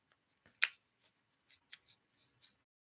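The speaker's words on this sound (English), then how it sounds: "Opening up the Fortune Cookie." A fortune cookie's plastic wrapper is torn open up close, giving several sharp, crinkly bursts spread over a few seconds with quiet gaps between them.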